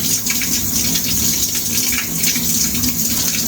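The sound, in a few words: cold shower water running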